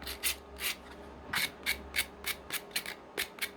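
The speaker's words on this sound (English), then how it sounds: "So just a quick little sand like that." Flat surfaces of a Johnny 5 toy-version model kit part being sanded by hand, about a dozen short, quick rasping strokes in a steady rhythm, close and crisp.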